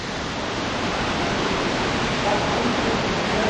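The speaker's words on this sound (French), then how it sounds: "Il y a pas mal de bruit de cascade." An underground canyon waterfall roars steadily as a dense, continuous broadband rush, close and loud without any break.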